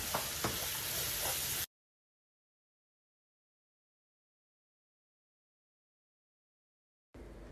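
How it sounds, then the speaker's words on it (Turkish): A salted filling is stirred in a hot pan, giving a close, steady sizzle with scraping for under two seconds before it cuts to silence, then briefly returns at the end. "Bir tatlı kaşığı tuz ilavesi yapalım ve karıştıralım"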